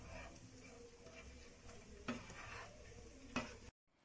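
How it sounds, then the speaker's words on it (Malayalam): Chicken mixed into fried masala in a pan, quiet and close: a continuous soft sizzle with scraping stir strokes and two sharper spoon knocks against the pan. "മസാല എല്ലാം ചിക്കനിൽ നന്നായിട്ട് മിക്സ് ചെയ്തെടുക്കാം."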